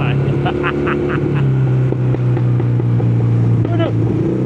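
A custom two-cylinder Honda Spacy 220cc scooter engine runs close by with a steady, throaty low drone and slight rev changes, with a few brief voices over it.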